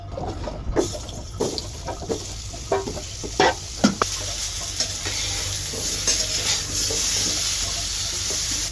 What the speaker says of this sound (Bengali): তরকারি রান্না করার লেগে যে আলুগুলো কেটে রেখেছিলাম এর মাঝে এখন নুন হলুদ মাখায় ভাজা নিব কিছুটা